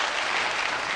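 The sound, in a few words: audience applause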